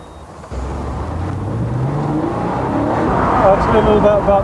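A new Porsche 911 with a 3.6-litre engine and six-speed manual gearbox accelerates on a test drive near Chiswick, West London, its engine note rising steadily under people talking.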